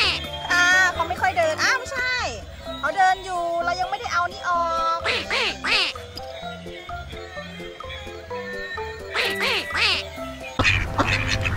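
A yellow duck toy quacks in short repeated bursts, mixed with electronic animal sounds such as horse neighs and clip-clop from an unboxed animal toy set, fairly close and loud with busy overlapping tones.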